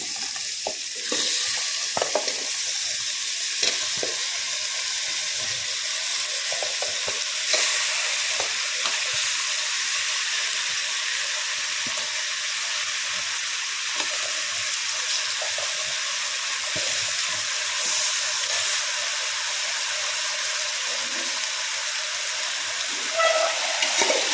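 Country chicken pieces fry in a curry pan for a thick country-chicken kuzhambu, giving a loud, steady, close sizzle that holds throughout with occasional stirring clicks and no talk.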